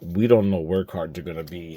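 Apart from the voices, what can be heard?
No distinct noise like a dog, phone or traffic.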